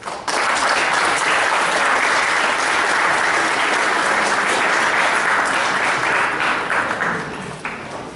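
An audience at an academic lecture breaks into sustained, steady applause, full and even for several seconds before tapering off at the end.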